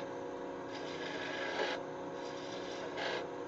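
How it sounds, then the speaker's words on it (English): A skew chisel rasps against a spinning wooden blank on a lathe while shaping a miniature bird ornament, giving a steady scraping hum with two louder bursts of cutting, close and moderately quiet. "So I'm going to use a skew to kind of start shaping that the back of that head where we're going to cut it off."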